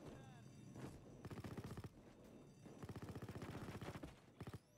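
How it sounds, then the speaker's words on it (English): Rapid bursts of automatic gunfire ring out in the video game Payday 2, several quick rattling volleys separated by brief pauses, close and fairly loud. "I hear bullets flying."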